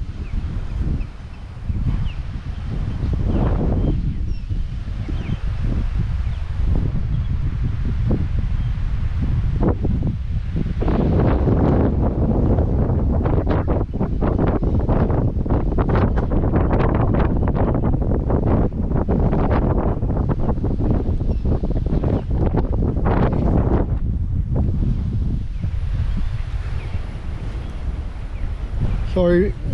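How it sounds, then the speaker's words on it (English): Strong outdoor wind buffets the microphone almost continuously, a loud low roar with gusty surges, while a person talks intermittently over it. "Really windy here."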